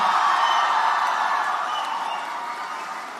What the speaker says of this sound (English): This is the first PhD from the Faculty of Management and Commerce, so it deserves this kind of applause.